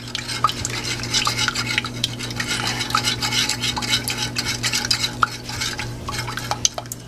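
A spoon stirs heated milk in a pot on the stove for homemade yogurt, giving steady scraping and clinking strokes with a low continuous hum underneath.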